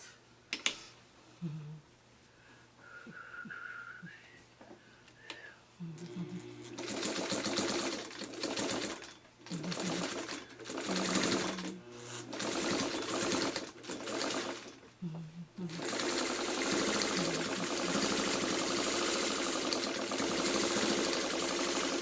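Sewing machine stitching a hosta quilt block in long loud runs with brief pauses, the motor buzzing steadily between short stops, a faint quieter start before the stitching picks up.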